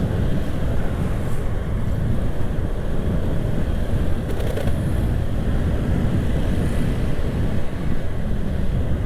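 Steady, loud wind roar buffets the microphone on a motorbike riding through city streets, with a constant low rumble and no gaps.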